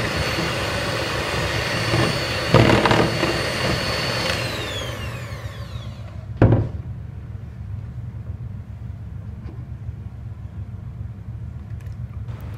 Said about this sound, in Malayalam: അപ്പോൾ അതിന് നമുക്ക് 3 ടേബിൾ സ്പൂൺ ബട്ടർ ഒന്ന് ബീറ്റ് ചെയ്ത് കൊടുക്കാം.